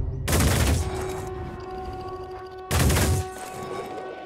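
Gunfire from the Phoenix Point strategy game: two loud, close bursts of rapid shots, each lasting about half a second, separated by a humming, ringing lull.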